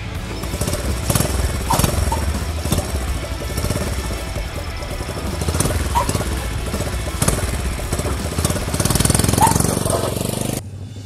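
Small yellow custom motorcycle built on a Honda C70 with Vespa 8-inch wheels, its little single-cylinder engine chugging and revving on a test ride, a close, loud, rattly putter with repeated throttle surges before cutting off abruptly near the end.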